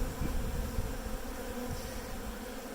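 Honey bees hum steadily on an open hive, a dense, continuous droning buzz from many insects close by that holds even throughout.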